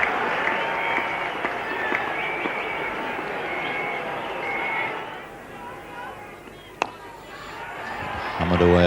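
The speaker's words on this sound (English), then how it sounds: "The crowd here, the West Indian contingent particularly, going wild with excitement." A large crowd at a Lord's cricket Test match between West Indies and England cheers and applauds in a sustained roar from a distance, with a sharp crack near the end and broadcast commentary talking over it.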